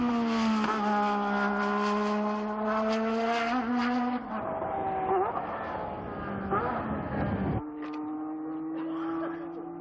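A Benetton B187 Turbo Formula 1 car on a racing circuit, its loud engine a high, harmonic whine that climbs with revs, drops abruptly at gear changes and climbs again, heard close and continuously.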